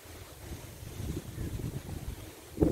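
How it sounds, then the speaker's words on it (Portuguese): Low, gusty rumble of strong wind before a storm buffeting the microphone, steady throughout with a sharper gust at the end; no voices. "Sei se dá pra ouvir o barulho do vento. Tá ventando muito"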